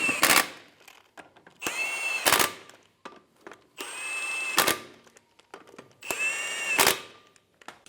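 A power tool runs the lug nuts down onto the wheel of a 2000–2007 Ford Focus 2.0L in four separate whirring bursts, each ending in a sharp rattling impact, close and loud with quiet gaps between.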